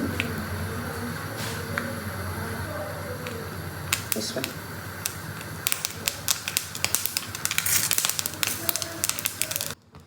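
Mustard seeds splutter and pop in hot oil in a home kitchen, sparse crackles at first building into a dense burst of sharp snapping pops near the end, with someone talking over it.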